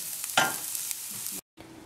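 Onions and small green chillies frying and stirred in a pan for masala dosa potato filling, a steady close sizzle with a scraping stir near the start, then a brief cut and the sizzle resumes quieter.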